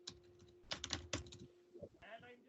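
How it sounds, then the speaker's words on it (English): Computer keyboard typed in bursts of quick, close key taps while entering command-line configuration for static routes on a Cisco ASA firewall, with a few pauses between clusters and some light background noise. "I'm just typing it"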